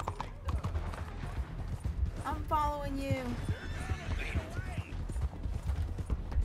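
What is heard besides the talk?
horse hooves clip-clopping in Red Dead video game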